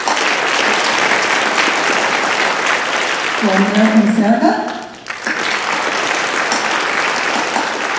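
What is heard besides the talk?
concert audience applause for vocalists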